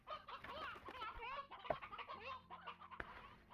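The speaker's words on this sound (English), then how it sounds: "This is a baby chick." A baby chick in the Slime Rancher video game makes soft clucking and chirping calls, several short rising peeps and clucks in quick bursts, faint and close with small clicks between them.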